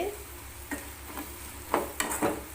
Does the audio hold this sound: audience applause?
no